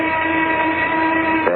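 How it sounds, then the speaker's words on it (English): Noon whistle in an old-time radio drama, a loud sustained tonal blast with layered harmonics holding steady before a brief pitch shift near the end, heard alone. "There's the noon whistle."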